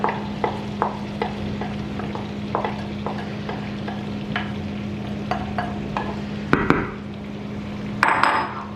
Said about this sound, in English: We will mix the paste with the potatoes and the masala really well now